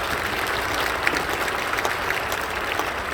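A congregation at an Easter dawn joint church service claps together, giving a steady, dense wash of applause from a large room that runs evenly throughout, without speech.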